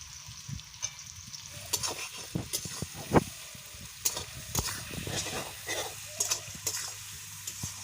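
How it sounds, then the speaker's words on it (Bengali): Turmeric, salt, cumin powder, ginger-garlic paste and chilli sautéing in a pan, with a quiet sizzle and repeated scraping stirs in an uneven rhythm. "ভালো করে কষিয়ে নেবো এবার মশলা আমার কষানো হয়ে গেছে"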